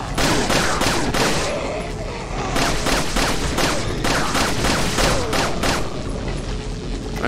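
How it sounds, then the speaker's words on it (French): Ada's handgun fires repeatedly in Resident Evil 4, a loud run of sharp shots, some in quick bursts, across the whole stretch amid game effects, with no talk. "son flingue, Ada, il est un peu différent quand même"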